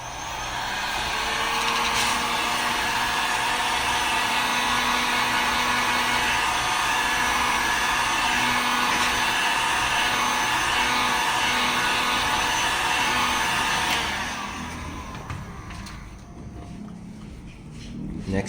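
A hair dryer or heat gun warms the cracked glass back of a Mi Note 10 phone, blowing a steady, close whirring hiss for about fourteen seconds before switching off, with a voice briefly audible.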